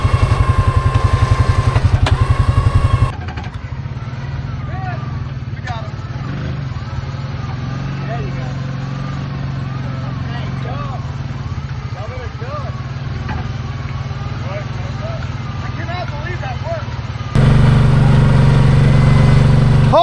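A side-by-side off-road buggy's engine runs steadily while it is being winched out of a swampy gator pit, with a louder revving surge near the start and end and people shouting over it throughout.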